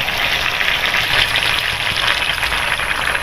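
Coconut milk going into a covered pot of ginataang labong on the stove gives a steady, loud broadband sizzle and bubbling that holds evenly throughout, with no voices.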